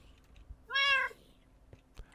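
A single clear cat meow from the video game Minecraft rises and falls in pitch, standing alone against a faint, quiet background with a few soft ticks afterward.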